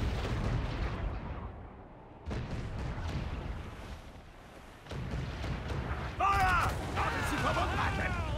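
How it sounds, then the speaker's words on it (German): Deep booming ship cannon blasts in Assassin's Creed Black Flag on PS5, several heavy explosions rumbling one after another, with German shouted voices and whistling effects mixed in. "Feuer! Kanone bereit! Wir müssen diese Türme treffen!"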